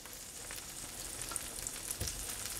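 Impossible Burger plant-based patties sizzle steadily in a hot pan, a quiet continuous crackle with a soft thump as one is flipped.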